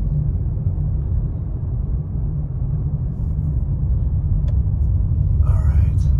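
Cars travel a snowy mountain road near Big Bear on a cold sunrise drive, a steady loud low rumble of engine and tires from inside a moving vehicle, with faint talking near the end.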